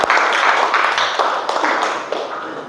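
A classroom of students applauds during a relay-running lesson. The clapping is close, dense and continuous and tapers off slightly toward the end. No voices stand out over it.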